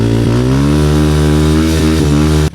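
Enduro motorcycle engine strains hard uphill on rocky ground, a loud, close, sustained drone holding steady pitch with brief dips before cutting off abruptly at the end.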